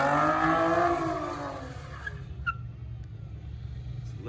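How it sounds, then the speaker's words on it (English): Car tires spinning in place to warm them up: a loud rising engine rev with squealing tires at the start, easing off into a low idling rumble with a few sharp pops and chirps. "There we go, warm them tires up."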